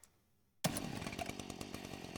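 A hot pink chainsaw weapon in the video game ULTRAKILL revs up abruptly after a short near-silence, then grinds on loudly and steadily with rapid pulsing chatter.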